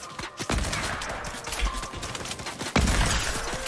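Rapid, loud gunfire cracks in a Fortnite match, a dense fusillade of overlapping shots with sharp impacts and a heavier blast near the end, without talking.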